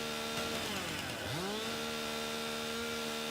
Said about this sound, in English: I think you move slower with the chainsaw now too.